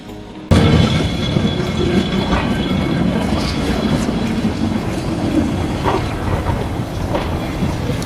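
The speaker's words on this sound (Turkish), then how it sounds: "Şu anda Lisbon'un ünlü 28 numaralı tramvayının geçtiği güzergahtayım ve tramvay geliyor." Lisbon's number 28 tram rumbles loudly past on rails right up close in the narrow streets of Alfama, steady heavy rolling with metallic clatter throughout.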